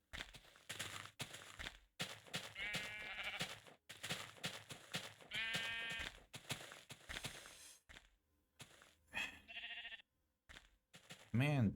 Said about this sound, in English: why there's an absurd amount of sheep